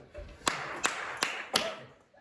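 A woman claps her hands four times at a slow, even pace in a classroom, each clap a sharp, moderately close slap with quiet room tone between.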